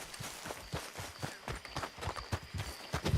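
Horse hooves clip-clopping at a walk in the video game Red Dead Redemption 2, a close, even rhythm of distinct hoof strikes with no talk over them.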